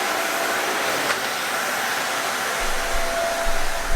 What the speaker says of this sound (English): as I vacuum, nothing is getting sucked up